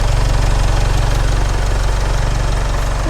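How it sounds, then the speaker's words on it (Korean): A Jaguar XF (X260) 20d diesel engine idles in the engine bay, ticking over with an even, rhythmic low pulse, close and loud, with no voices. "엔진 소리 일정합니다"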